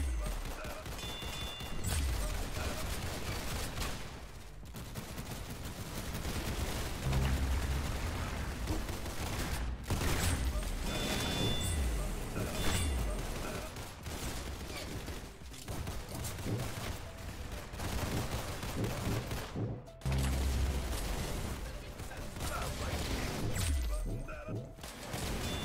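Roblox Arsenal gunfire rattles in repeated bursts and single shots over a dense, noisy game soundscape, with crashes and thuds mixed in.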